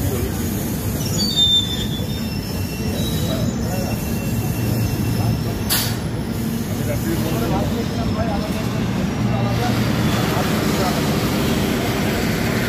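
The Shahid Express superfast train on the Howrah–Rampurhat line stands nearby, giving a loud, steady rumble with a constant low drone, a brief high squeal and some metallic clanks. Voices chatter in the background.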